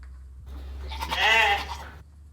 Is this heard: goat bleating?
yes